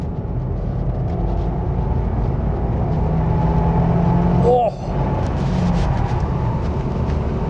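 A Subaru WRX accelerates on its first lap around Sentul circuit with a loud, steady engine drone inside the cabin, a brief shift dip midway, while a driver talks over it.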